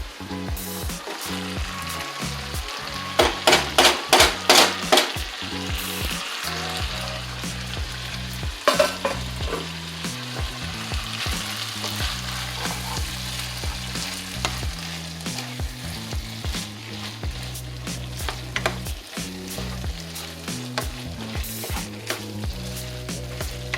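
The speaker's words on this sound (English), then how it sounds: "I'm going to mix in the potatoes" Sizzling shepherd's pie filling with green beans and mushrooms crackles steadily in a pan while potatoes are stirred in, with a repeated scraping rhythm of the spoon over the constant frying hiss.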